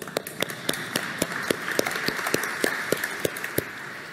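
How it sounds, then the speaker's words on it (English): Clapping in a lecture hall: a run of distinct, sharp claps at a steady, moderate pace over a soft room background, with no talking. "I will begin by applauding you."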